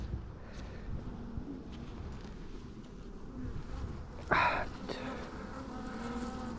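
Honeybees hum steadily around an open hive during an inspection, building comb near a feeder. The buzz is continuous and close but fairly quiet, with one brief louder swell as a bee passes near.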